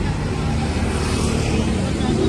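Traffic rumbles steadily along a busy night street during a walking tour, with passing cars and motor vehicles blending into a continuous, fairly loud wash of engine and road noise amid pedestrians, while a voice talks over it.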